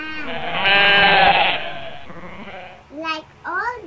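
Sheep and lambs bleat up close, a long wavering bleat first, then two shorter, higher calls, over a faint background murmur.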